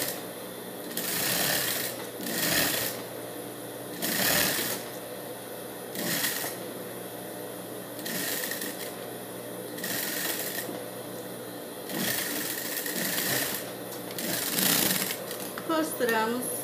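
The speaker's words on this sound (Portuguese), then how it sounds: "Vamos costurar toda a barra, abrindo certinho para que ela forme bonitinho" Sewing machine stitching the full hem of a blue dress, running in repeated bursts of roughly a second each with short pauses between, close and steady, a voice talking over parts of it.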